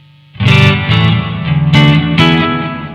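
Loud electric guitar on the neck pickup, volume and tone maxed, strummed close up, warm and slightly overdriven with reverb, a few chords ringing out one after another.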